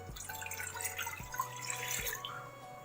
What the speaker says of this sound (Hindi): मैंने एक पतीला ले लिया है, इसमें मैंने 2 कप पानी ऐड करूँगी।